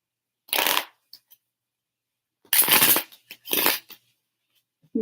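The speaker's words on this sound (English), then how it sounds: "Let me shuffle the cards" Tarot cards shuffled in three separate bursts, a crisp riffling rush each lasting under a second, close and loud against silence, with soft taps between.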